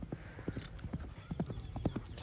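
Horse hooves clip-clop on the ground during tent pegging and lemon cutting practice at a riding camp in Dundlod, a quick, uneven run of soft, fairly distant hoofbeats.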